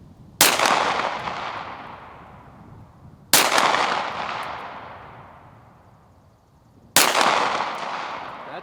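Three loud Walther PDP pistol shots fired at a distant target on an outdoor range, evenly spaced a few seconds apart, each sharp crack followed by a long rolling echo, no speech.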